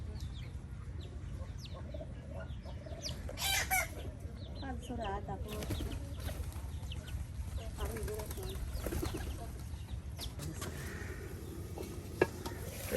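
Chickens cluck in a village yard while a fish curry sizzles and is stirred on the stove; scattered clucks and calls rise and fall over the cooking noise, with voices talking at times.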